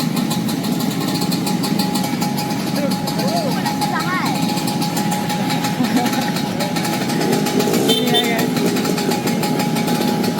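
Old scooters idle together at a scooter club, a steady mid-pitched engine rumble running continuously close by, with people talking over it and a few brief higher sounds rising above.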